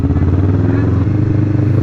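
A Kawasaki Vulcan S motorcycle climbing an uphill road near Tagaytay, its engine a loud, steady low throb pulsing up close, with someone talking over it.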